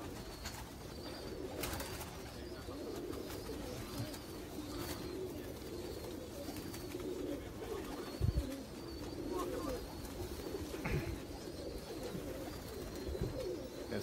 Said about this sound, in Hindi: ये देखें ये सलारे कसूरी कबूतर है हमारे